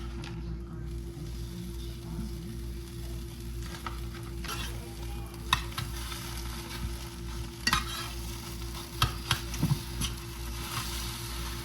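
Eggs fry in a pan with a continuous soft sizzle, broken by scattered clicks and scrapes of a utensil, close and steady under a constant low kitchen hum.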